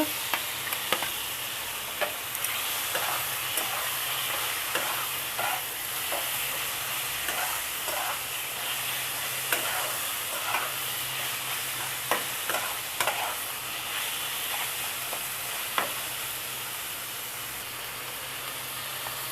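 Minced meat fries with ginger-garlic paste in a pan, giving a constant loud sizzle and hiss broken by repeated scraping strokes of a spoon stirring throughout.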